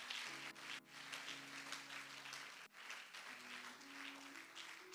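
A church congregation claps and applauds for Jesus during a worship service, a soft, steady patter of many hands heard faintly alongside sustained musical tones.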